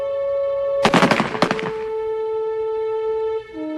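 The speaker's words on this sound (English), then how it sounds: "The order is given to fire." A French military firing squad in the First World War shoots a man tied to a post, a rapid ragged burst of rifle shots followed by a second, thinner volley, loud and sharp over a steady musical hum.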